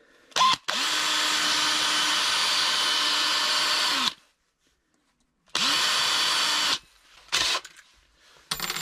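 Electric drill boring holes through both sides of a homemade feeder-kinder, two long steady high whines separated by a silent pause, with short bursts of trigger starts and stops close by.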